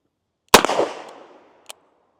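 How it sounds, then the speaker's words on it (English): A Smith & Wesson Model 19 revolver fires once in double action: a single sharp, loud crack with a short fading echo, followed a second later by a faint click. "Let's go ahead and shoot some more double action"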